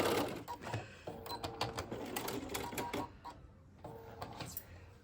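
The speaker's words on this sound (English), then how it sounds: "So I'm stitching on the same line as the rickrack, right to the top." A sewing machine stitches rickrack trim to fabric in quick, close mechanical bursts with short pauses between runs, fairly quiet overall.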